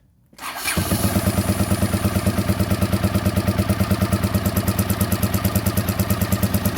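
A Honda CX500 motorcycle engine catches on choke after a brief crank, then settles into a loud, steady, even-pulsed idle held close to the mic.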